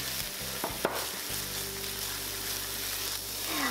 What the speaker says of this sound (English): Then we're going to introduce the pickled sour mustard and stir fry it.